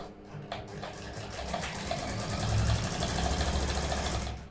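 A sewing machine stitches a shirt, its motor running in a rapid, steady mechanical whirr that swells louder midway and then eases off, close and without talk.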